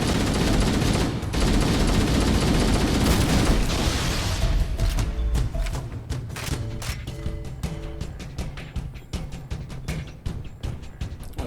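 Assault rifle fire in Halo: Combat Evolved, a loud, dense stream of rapid shots for about four seconds, then quieter mechanical clicks and clacks of handling and reloading, no voices.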